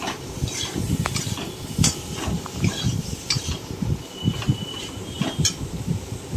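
Kashmiri chili powder being stirred into a spice mix in a cooking pan, with repeated soft scraping and clinking of a utensil against the metal under a steady low hiss.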